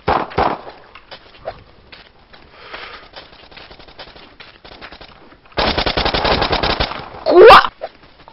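Gunfire in an online shooter game: bursts of rapid automatic fire, some distant and scattered, then a long loud sustained volley near the end, with a brief shout over the shooting.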